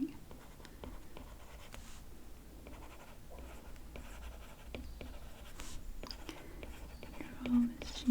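A stylus taps and scratches across an iPad screen while notes and a heading are written, soft close strokes in a steady irregular rhythm under a quiet whispered voice.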